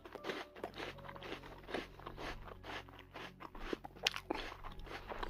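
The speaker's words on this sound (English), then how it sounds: "The old farmer threw an apple into the well, on which Alma immediately began chewing." A cow chews an apple, heard as a run of wet, crunching bites and grinding jaw sounds, close and fairly quiet, repeating irregularly with no voices.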